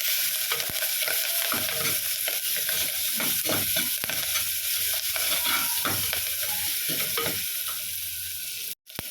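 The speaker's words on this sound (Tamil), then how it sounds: "இது எல்லாத்தையும் சேர்த்து நல்லா வதக்கிக்கலாம்" Curry leaves and crushed garlic sauté in hot oil for a mango, brinjal and drumstick sambar, with a loud, dense, continuous sizzle and faint stirring beneath it up close.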